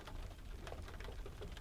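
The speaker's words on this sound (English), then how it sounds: "Do you hear that? Mm. I love the rain." Steady rain falling on a cold, rainy day, a soft continuous patter with scattered drops, close and quiet throughout with no talking.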